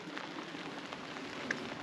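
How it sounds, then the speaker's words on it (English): Heavy rain falls steadily on an abandoned quarry campsite, a dense, even hiss of drops hitting surfaces close by, with no one speaking. "it is raining quite considerably, and you can see water running off on here as well"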